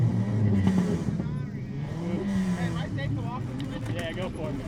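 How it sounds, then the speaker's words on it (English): Race car engines at a short-track season-final feature race rumble and rev together, a steady loud engine roar under an announcer talking over a public address. "Start your engines."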